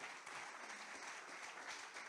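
Faint, distant applause from a church congregation, a steady patter of clapping hands with no voices.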